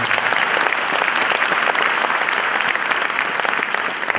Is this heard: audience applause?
yes